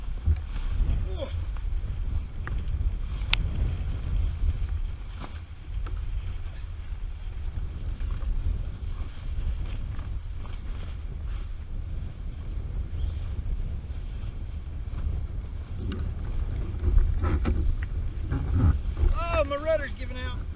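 Wind rushes steadily past the microphone while a kayak sails near shore at Cape San Blas, a constant low buffeting roar with some water movement and a voice speaking briefly over it.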